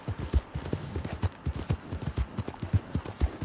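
Horse hooves clip-clopping at a steady walking rhythm in a video game, soft and close, with no talking over them.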